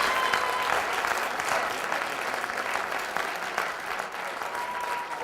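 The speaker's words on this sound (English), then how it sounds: "Give everyone a round of applause again" A college elevator pitch competition crowd applauds the winner, dense sustained clapping that holds evenly loud throughout with no voices over it.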